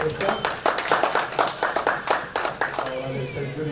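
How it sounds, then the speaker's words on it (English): A congregation at Heart to Heart Church applauding a welcome speaker, with a steady run of sharp, rhythmic claps, moderately close, mixed with voices. "Give him a round of applause while he comes."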